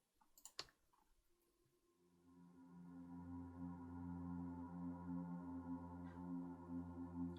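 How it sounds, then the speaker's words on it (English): Synth pad with reverb for a trailer music intro, entering after a few opening clicks and swelling into a sustained, layered drone that holds steady and fairly quiet to the end. "And I decided to start with a pad,"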